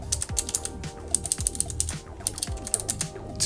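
Fast typing on a mechanical keyboard with spring-loaded key switches, a dense run of sharp, close clicks and clacks in an uneven rhythm, with no speech.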